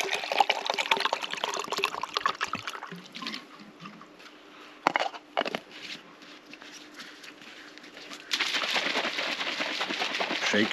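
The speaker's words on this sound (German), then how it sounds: "Halben Liter Wasser drauf." Water is poured from a bottle into a shaker holding protein powder, a close trickling, splashing pour that thins out and pauses midway, then resumes in a fuller stream toward the end, outdoors at a fishing spot.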